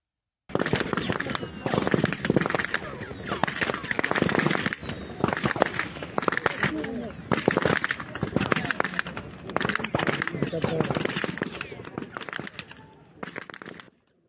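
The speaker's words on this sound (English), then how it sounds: "just a warning that you'll hear a lot of gunfire" Rapid bursts of gunfire in Gaza crack repeatedly in long volleys, loud and close, with brief pauses between strings of shots and voices mixed in.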